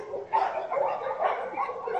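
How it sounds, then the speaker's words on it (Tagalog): Several dogs bark and yip repeatedly near piled garbage on a street in Nepal, a fairly close, overlapping chorus of barks with no talk. "Tingnan nyo, nagtatahulan yung mga aso pagka may ganyan, yung mga basura."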